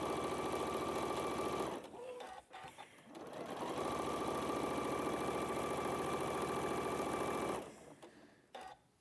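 A sewing machine stitches quilt fabric blocks together in long steady runs, its motor whirring loud and continuous with a brief pause in the middle and a stop near the end.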